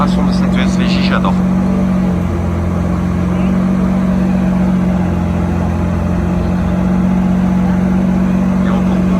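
Lamborghini Aventador SVJ arriving at a gathering of cars, its engine giving a steady loud low drone with a slight shift in pitch, nearby and continuous, while people talk over it.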